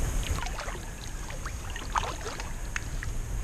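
A kayak paddle dips and pulls through swamp water against a noticeable current, with soft splashes and trickles recurring every second or so over a steady wash of moving water, close and moderately loud.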